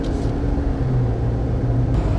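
A Jeep JL Wrangler with a Rancho 2-inch lift and new shocks and springs rolling over speed bumps around town, a steady close cabin rumble of engine and road noise.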